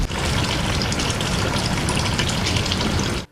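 Water gushes loudly and steadily into buckets from a municipal water delivery truck, a close, continuous rushing that stops abruptly at the end.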